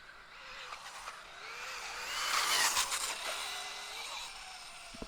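A Traxxas Slash 2WD VXL RC truck, geared low, whines past in a parking lot, its motor pitch rising and falling as it nears and recedes, fairly faint with some tire scrub.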